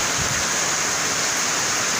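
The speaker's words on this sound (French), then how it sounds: "là il pleut beaucoup." Heavy rain pouring steadily during rainwater drainage work, heard as a dense, continuous broadband hiss with no breaks and no voices.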